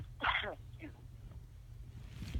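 A single short, sharp sneeze bursts out near the start over a low, quiet background hum, followed by faint breathy sounds.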